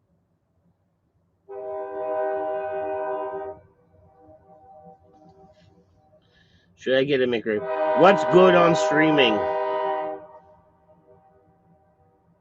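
A passing train sounds one long, steady horn blast of about two seconds, followed by a faint rumble and then someone talking nearby.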